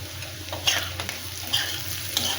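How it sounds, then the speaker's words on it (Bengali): Elephant foot yam and prawns with spices fry steadily in a pan, a continuous close sizzle broken by several light stirring scrapes. "এটা ভাজতে থাকি আস্তে আস্তে"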